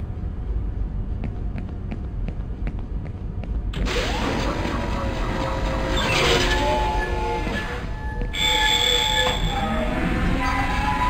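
A tram rolling on rails in the Dead Space Demake video game. A low mechanical hum with faint ticking gives way to loud rumbling motion, with squealing metallic wheel tones rising and falling over a steady drone.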